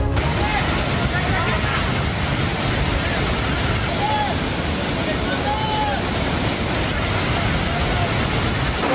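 Clear water pours down from a waterfall in green mountains in the Gokin area, a dense, steady roar of rushing water that fills the whole stretch, close and loud.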